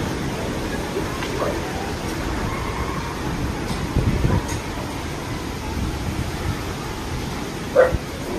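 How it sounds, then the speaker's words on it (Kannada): A pet dog barks now and then at a loud storm of strong wind and rain shaking the trees, with one sharper bark near the end standing out over a steady roar of wind and rain. "ನೋಡಿ ಬೊಗಳ್ತಾ ಇದೆ ಸೌಂಡ್ಗೆ."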